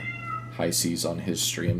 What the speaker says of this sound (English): I apologize for my cat freaking out in the background